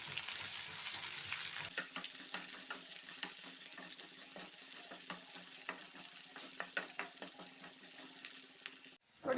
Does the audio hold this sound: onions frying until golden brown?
yes